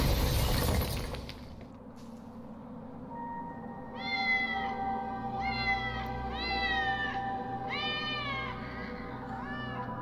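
Cats in the video game Batman: Arkham City, with a loud shattering crash at the start followed by a low hum and a run of repeated, drawn-out meows that rise and fall several times, fairly close and clear, with no talk.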